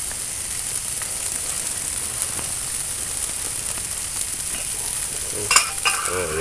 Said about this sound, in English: grits are cooking up good